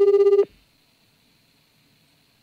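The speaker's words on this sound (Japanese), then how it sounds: "電話をかけてみたいと思います。" Ringback tone of an outgoing call placed from a mobile phone: a short pulsed ring burst at the start, a long quiet gap, then the next ring beginning at the end, heard alone and fairly clear.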